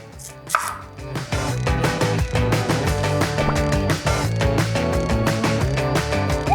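Rapid, regular knife strokes chop food against a cutting board while preparing Thai braised eggs, a steady brisk rhythm of sharp taps close by, with no talking.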